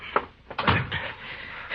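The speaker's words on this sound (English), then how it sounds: "close the door, Chester." A door shuts in a 1953 Gunsmoke radio drama episode, a brief thud-like knock followed by a second louder clunk, close and fairly soft, with room noise and no talk over it.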